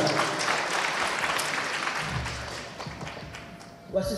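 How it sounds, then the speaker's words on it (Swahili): An audience breaks into sustained applause at a hair-braiding awards event, dense clapping holding steady for about three seconds before thinning out, with a brief louder knock at the end. "Tuongeze makofi tafadhali."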